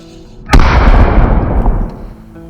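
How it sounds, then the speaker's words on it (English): Homemade backyard fireworks wheel ignites with a sharp pop, then a loud roaring hiss of spraying fountains for about a second and a half before trailing off. "Today, I'm going to show you a simple upgrade I mentioned in that video, a fireworks wheel."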